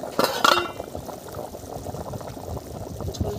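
Chicken curry broth in a village-style handi with small onions, bubbling at a boil with soft irregular liquid blips, opening with a few louder clinks and pouring splashes, close by and without talking.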